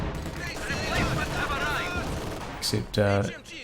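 MG42 machine gun fire in Company of Heroes 2, a game match, bursts of gunfire and booms under a steady battle din, with a commentator talking over it.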